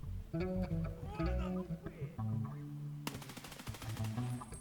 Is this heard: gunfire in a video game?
yes